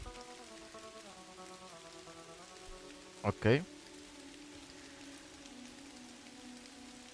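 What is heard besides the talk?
rain falling in the video game Kathy Rain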